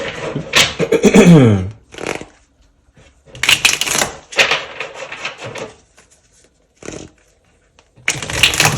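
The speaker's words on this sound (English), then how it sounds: "Let's shuffle the cards." Bursts of riffling and flapping noises from shuffling a deck of cards come in several separate passes, close and fairly loud, with short pauses between them.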